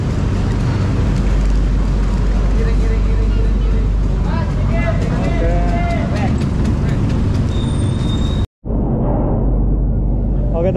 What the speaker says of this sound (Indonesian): ini udah ada di atas ferry dan kita mau naik ke dek atas